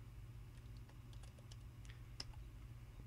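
A command being typed on a computer keyboard, heard as faint, close, irregular key clicks over a low steady hum.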